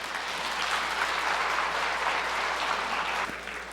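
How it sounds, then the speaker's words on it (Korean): An audience at a 2020 Old Testament Bible study lecture gives a round of applause, a dense, even wash of many hands clapping together that holds steady for several seconds before tapering slightly at the end. "자, 우리 박수로 한번."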